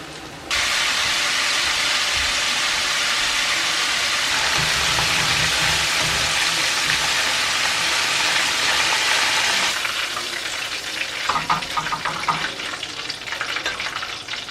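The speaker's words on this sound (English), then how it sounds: "me frying up some fresh Lake Erie walleye" Steady loud sizzling hiss of walleye fish frying in hot oil in a pan, continuous throughout, with some crackling and faint clatter toward the end.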